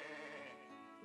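A sheep bleats in the Fire Emblem Engage video game, one brief wavering bleat that sounds near and carries steadily, with nothing else around it.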